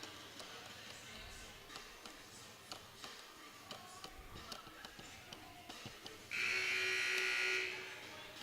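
A basketball game buzzer at a varsity boys high school game sounds one loud, steady electronic tone for about a second, cutting through the crowd murmur and gym noise, with no talk over it.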